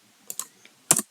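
Typing on a computer keyboard while entering numbers into PHP code: a few sparse, close key taps followed by a louder cluster of strokes, quiet and alone.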